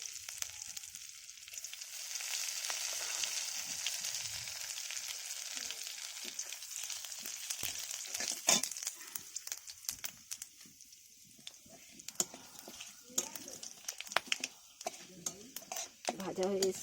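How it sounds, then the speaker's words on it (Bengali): Five-spice seeds and two bay leaves crackle faintly in hot oil for an okra, potato and fish curry, with a soft sizzle and scattered stirring clicks growing busier toward the end. "ভাজা হয়ে এসছে ফোড়নটা"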